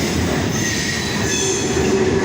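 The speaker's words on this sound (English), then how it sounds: "The symbol for this train is the NS L10 coming from Middletown, Ohio, heading east to Springfield, Ohio." A Norfolk Southern freight train rolls past close by, a loud continuous rumble of wheels on rail with a sustained metallic squeal running over it for the whole stretch.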